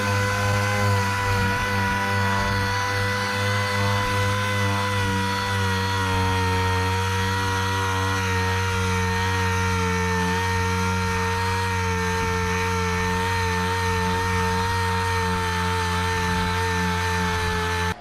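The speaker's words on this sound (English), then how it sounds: "I got a little carried away with the sander" An electric sander grinds old paint off the body of a 1959 Dodge Coronet, running loud and continuous with a steady, droning motor whine and no pauses.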